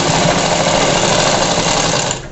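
A sewing machine stitches slippery blouse fabric in one loud, close, continuous run of fast rattling needle noise that stops abruptly at the end.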